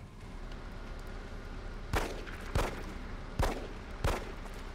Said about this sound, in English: Emilia and the first sectoid then trade shots